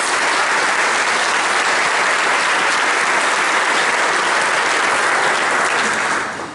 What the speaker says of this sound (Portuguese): Vamos dar uma salva de palmas para Jesus Cristo.